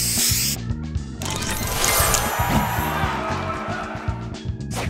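Spray booster effect in the Match Masters mobile puzzle game, a loud hissing spray burst layered over bright game music and clattering chimes, lasting a few seconds before settling.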